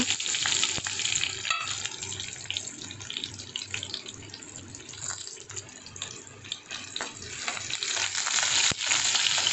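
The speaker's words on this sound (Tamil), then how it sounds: "வெங்காயம் போட்டு நல்லா ப்ரௌனிஷாக வதக்கிக்கோங்க." Continuous crackling sizzle of onions browning in hot oil with mustard seeds in a kadai, steady and close, with occasional scraping stirs.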